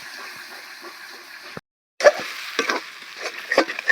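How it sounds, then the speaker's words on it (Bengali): Ground soaked mung dal paste goes into a frying pan of prawns, giving a steady close sizzle with a brief silent gap, then louder bursts of frying and stirring scrapes. "এবার এখানে যে মুগ ডালটা আমি বেটে রেখেছিলাম সেই মুগ ডালটাকে দিয়ে দিচ্ছি"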